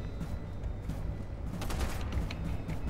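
Turret gunfire in the video game Content Warning comes as a dense, continuous rattle of rapid shots with no clear pauses.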